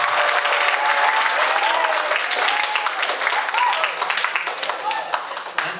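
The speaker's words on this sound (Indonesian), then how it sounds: "Tepuk tangan buat Kenzi." A school audience applauds a student named Kenzi after a Quran recitation presentation, a dense, steady wash of many hands clapping at close range for several seconds, with voices faintly mixed in.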